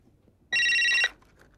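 A single short burst of electronic telephone ringing, about half a second of bright trilling tone, fairly close and clear against a quiet room.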